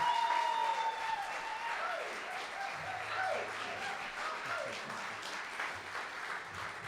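An audience at a live stage show claps steadily throughout, with crowd murmur and some tonal background sound mixed under the applause.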